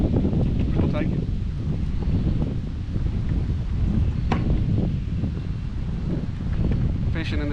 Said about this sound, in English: Fishing in this wind makes it a little tough